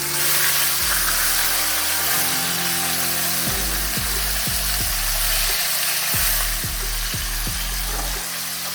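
Chicken pieces fry in a pan with a loud, steady hiss and crackle, close and continuous, while a low droning hum steps up and down beneath it.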